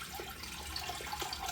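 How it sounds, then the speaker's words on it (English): Tap water running into a bathroom sink during a wet shave with a brush, a soft continuous hiss and patter with faint splashes, steady and close, no talking. "I'm actually going to put some water in the sink while I do this."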